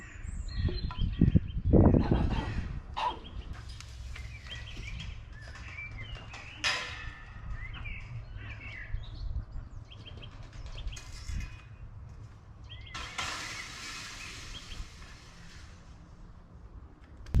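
Chickens and a duck kept outdoors make scattered, faint calls and chirps across a quiet yard, with occasional rustling and footsteps in between.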